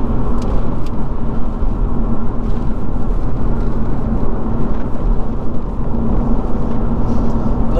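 A Lotus Evora sports car drives along the Blakey Ridge road in England, its steady engine hum and road rumble filling the cabin evenly and loudly, with no talking.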